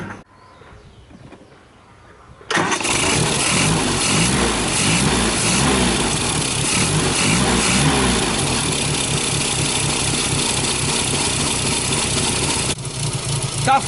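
A Mini Austin engine that misfires when hot cranks and catches after a quiet pause, then settles into a loud, close, lumpy idle with a throbbing pulse that runs for about ten seconds before easing slightly.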